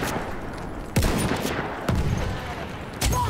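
Fedorov SMG fire in Battlefield 1, a loud continuous automatic burst in a busy battle mix, punctuated by a few heavier sharp hits.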